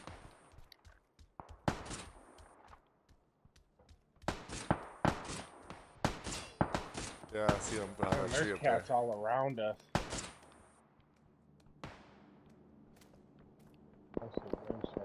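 Gunfire in the battle game PUBG, a burst of rapid shots crackling in clusters over the middle of the clip, with scattered single reports before and after, while players talk over it.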